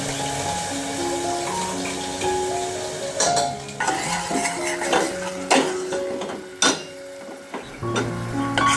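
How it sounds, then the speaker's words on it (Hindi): Garlic and green chilli paste sizzles in hot mustard oil with cumin while a spoon stirs and scrapes the pan, giving irregular metallic clinks over a steady frying hiss. "उसके बाद में इस पेस्ट को मैं डाल दे रही हूँ और थोड़ा सा इसको भुनना है।"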